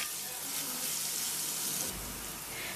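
Onions frying in a pan for a chicken curry, giving a steady, close sizzle that holds evenly throughout with no voices over it.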